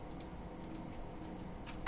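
Keys tapped on a homemade typewriter keyboard wired to a QR701 thermal printer give a few light, sparse clicks over a quiet hum, the last one slightly sharper.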